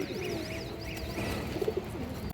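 A pair of Indian high flyer Kaldom pigeons coo softly at close range, low repeated murmuring calls set against faint background noise.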